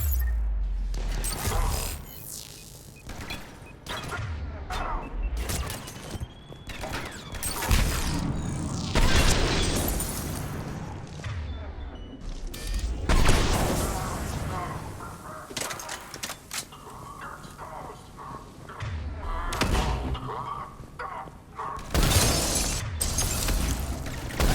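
Gunfire and explosions from the video game Mass Effect, made up of irregular loud booms and sharp bursts with crashing, shattering impacts scattered across a long combat stretch, and brief bits of voice in between.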